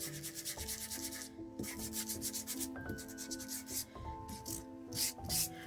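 Steady back-and-forth sanding strokes rasp against a paper surface in a regular rhythm, close up, with soft music playing underneath.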